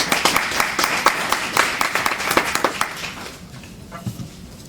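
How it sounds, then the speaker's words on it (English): Audience applause at a community convention in Maryland, dense crowd clapping that rings out loudly for about three seconds, then thins and fades to scattered claps. "So please give yourself a hand of applause."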